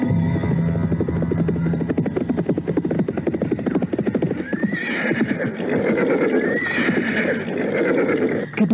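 Horses ridden along, hooves clip-clopping in a steady close rhythm while repeated loud neighs and whinnies rise over the trotting, with no talk.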